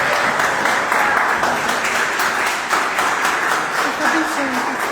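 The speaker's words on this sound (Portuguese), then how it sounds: "as palmas louvam ao Senhor" A church congregation claps in praise of the Lord, dense, steady applause filling the room at full volume, with faint voices mixed beneath.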